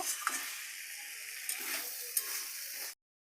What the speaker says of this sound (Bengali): আলু আর ফুলকপি মশলার সঙ্গে ভালো করে কষাই করে নেব